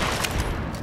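Rapid gunfire in the video game Fallout New Vegas, a dense, loud burst of shots filling a brief moment.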